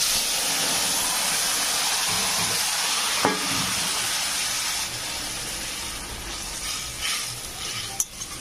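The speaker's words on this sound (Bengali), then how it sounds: "এবার এই তরকারিটাকে আমি একটু সাঁদাল দিয়ে নেবো।" Spices and a bay leaf sizzle and fry in hot oil for a fish curry tempering, a steady loud hiss with a sharp clack or two from the pan, and no talking.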